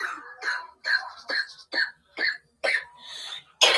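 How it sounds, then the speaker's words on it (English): A child coughs repeatedly in a series of short, harsh bursts with brief pauses between, close and fairly loud. "what kid is coughing? You okay?"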